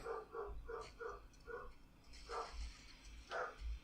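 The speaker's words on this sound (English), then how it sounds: "Hello, doggy." Dog barking in a PlayStation 2 video game played on an AYN Odin Pro handheld, a series of rhythmic, moderately faint barks repeating through the clip with no talking.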